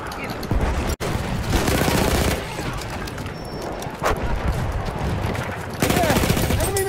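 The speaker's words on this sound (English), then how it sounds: "there, enemy machine gun" Enemy machine-gun fire rattles through a video game battle in dense, continuous bursts with heavy booms mixed in, loud and close throughout.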